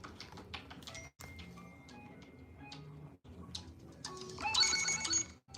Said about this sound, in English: I'm sorry, I got a phone call.